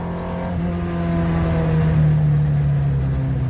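Onboard, the engine of a Škoda 200 RS Rallye car revs hard and steadily climbs in pitch, loud and close with no voices.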